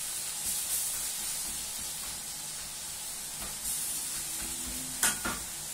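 Stir fry hissing and crackling gently in a pan as it is turned over, a steady low sizzle with a couple of brief clanks and scrapes near the end.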